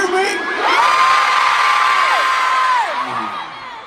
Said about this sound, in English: Big scream in this big stadium.